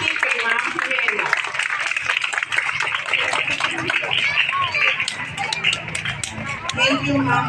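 A school audience applauds to welcome the principal, with a steady, busy patter of many hands clapping alongside crowd murmur and a voice over it throughout.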